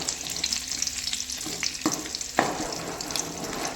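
Butter sizzles in a pan as spices are tempered for paneer masala, a steady bright hiss with a few sharper crackles and stirring scrapes near the end, close and fairly quiet, with no talk.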